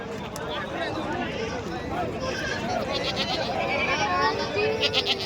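Goats of Gavran, Sojat and Kathiawadi breeds bleat repeatedly among crowd chatter at a livestock market in Varkhedi, several animals calling in short wavering cries over a busy, noisy background of people talking.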